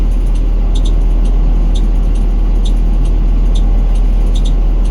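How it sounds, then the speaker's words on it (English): Bus engine running at idle during a DMV pre-trip inspection, a loud constant low drone with faint periodic ticking above it and no talk. "Okay, so I'm going to turn my bus on."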